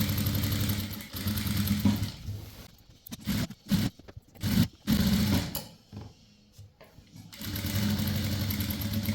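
A sewing machine stitches a churidar sleeve to the bodice in bursts, its rapid mechanical whirr starting and stopping with short pauses between runs, close and alone.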